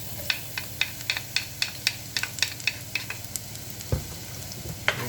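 Garlic and onion sizzling in a pan for cashew chicken, a steady close hiss punctuated by a rapid, fairly even series of spatula taps and scrapes against the pan, with no voices.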